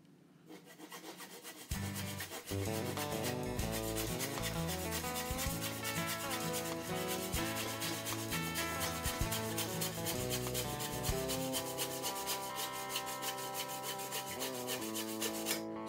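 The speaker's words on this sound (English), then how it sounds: "get the old handsaw out" A handsaw works back and forth through wood for a picture frame, a steady, continuous rasping that starts after a short quiet moment and keeps going at an even level, with no one talking.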